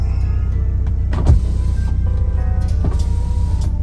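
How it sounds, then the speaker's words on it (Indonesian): Electric motor of a power window on a 1997 BMW E36 318i whines as the glass travels, with a close mechanical hum and a few short clicks and knocks at the start and end of the stroke. "Dan ini untuk power window kiri depan."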